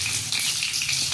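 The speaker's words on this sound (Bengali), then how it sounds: "এই তেলের মধ্যে কালো জিরা ফোড়ন দিয়ে দেবো, একটু কাঁচা লঙ্কা" Nigella seeds and slit green chili crackling in hot oil, a close, dense, continuous sizzle with no voices.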